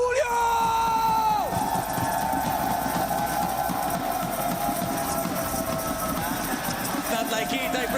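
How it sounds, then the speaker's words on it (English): A crowd at a live PUBG Mobile esports tournament cheers and whoops loudly throughout, opening with a sustained electronic tone, with voices heard under the roar. "we do have quite a bit of crowd presence"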